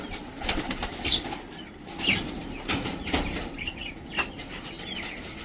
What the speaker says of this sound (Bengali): আমার এই বাকি দেশি পায়রাগুলো